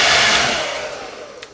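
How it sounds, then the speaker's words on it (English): A blow dryer blasts steadily at close range to dry wet paint on a painting, loud whooshing airflow that tapers slightly toward the end. "we're gonna hit it up with the blow dryer for like another 30 seconds or so"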